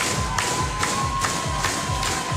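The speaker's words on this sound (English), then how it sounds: "This crowd is just pumping." Dense crowd roar from spectators at a CrossFit Open 23.2 workout, a steady loud wall of cheering with rhythmic thuds pulsing underneath about twice a second, no clear speech.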